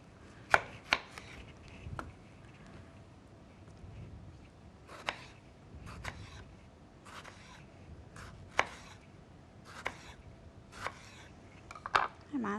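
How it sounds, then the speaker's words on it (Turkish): A knife chops a tomato for garnish on a cutting board. The sharp, quiet chops come in short irregular bursts, separated by pauses and soft kitchen background. "Hemen garnitürlerimi keseceğim"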